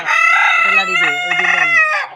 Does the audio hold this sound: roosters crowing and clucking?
yes